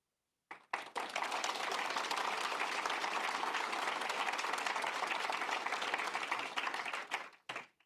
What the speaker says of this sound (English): I don't know if you can hear the applause through the microphone, but that's been warmly received